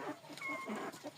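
Soft, close clucking from Jersey chickens, a few short murmured calls in quick succession with no talking.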